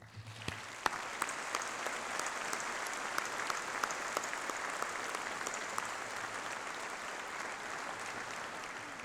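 Audience at a university graduation ceremony claps steadily in a large hall, a dense, even wash of applause with a few sharper individual claps standing out, fairly quiet and distant.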